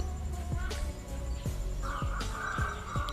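A rooster crows once, faint and distant, a drawn-out call rising over a low background hum.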